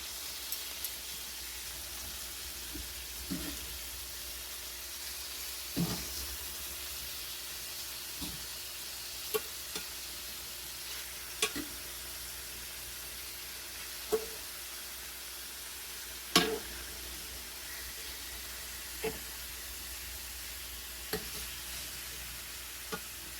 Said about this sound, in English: you want it to develop this golden brown crust when you sear it